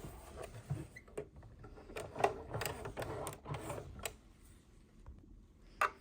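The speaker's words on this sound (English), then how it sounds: "we're going to put those onto the sewing machine, and we're going to sew the white and the green to the white and red strip" Sewing machine stitching strips of white and green fabric together, quiet intermittent ticking and clicking taps in short bursts with pauses, close but faint, no talking.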